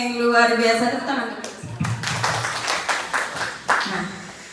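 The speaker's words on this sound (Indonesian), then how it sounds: "luar biasa, tepuk tangan" Hand clapping from a group at a school teachers' dissemination session, a short burst of claps breaking out after a sung or chanted vocal passage, moderately loud with some uneven, sharper claps near the end.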